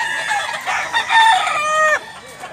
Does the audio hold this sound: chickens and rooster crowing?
yes